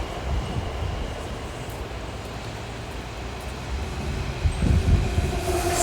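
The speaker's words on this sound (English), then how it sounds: "I've got the overhead trains, boys." A train rumbles steadily nearby with broadband noise, growing slightly louder toward the end as it passes overhead.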